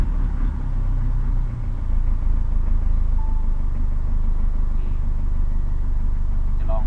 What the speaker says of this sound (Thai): การกดต่อไปจะมาดูการติดเครื่องนะครับลองติดเครื่องดู